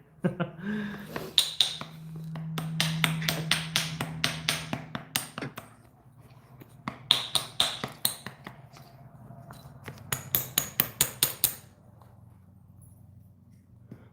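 Flint knapping: a hammer strikes rock in sharp, clicking taps, coming in rapid bursts of a dozen or so hits with short pauses between, close and clear, plus a brief low hum near the start.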